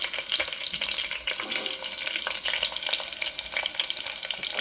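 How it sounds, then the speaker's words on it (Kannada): Green chillies and onion frying in oil with cumin in a pan for egg sambar, a dense continuous sizzle with light stirring scrapes, close and steady throughout. "ಈಗ ಬೆಳ್ಳುಳ್ಳಿ, ಕರಿಬೇವು ಚೆನ್ನಾಗಿ ಫ್ರೈ ಮಾಡ್ಕೊಬೇಕು."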